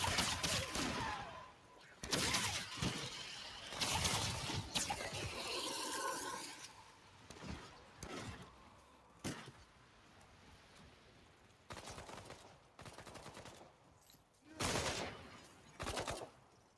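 Repeated gunfire bursts from the Remnant 2 video game hit in clustered volleys across the stretch, some loud and close, separated by quieter gaps of game ambience.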